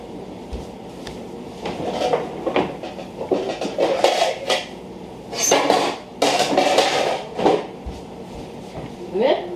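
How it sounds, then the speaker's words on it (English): Metal pots and lids clatter and clank in short bursts as a lid is sought for a frying pan, close by, with a voice talking intermittently between the knocks. "Let's find a lid that will fit this frying pan."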